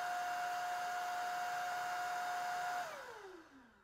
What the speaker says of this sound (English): Now, this is eco mode on the Vertex Pro.